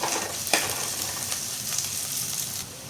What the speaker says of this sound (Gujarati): હવે નાખીશું ગાજર.